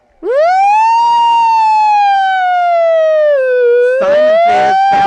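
A child imitates a siren, a loud sustained wail that rises, holds and slowly falls, followed by brief laughter.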